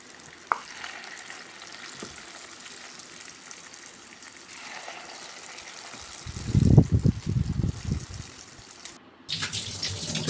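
Jharkhandi dhuska batter frying in hot oil: a steady, faint sizzling hiss, then a louder burst of bubbling and crackling as more batter goes into the oil, followed by a rising sizzle.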